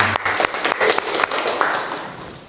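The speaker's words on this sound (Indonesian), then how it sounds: "aplaus untuk kelompok 3" An audience of students claps for a presenting group during a university class session, a dense burst of applause that rises quickly, holds briefly, then tapers off.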